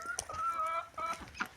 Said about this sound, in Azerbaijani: Mən toyuqları çağırım.